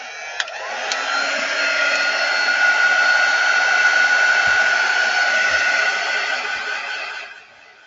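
A hair dryer runs steadily on a craft project, its broad airy whine holding close and loud for several seconds before cutting off near the end, with a couple of faint clicks at the start.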